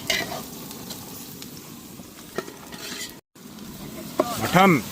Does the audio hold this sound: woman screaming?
no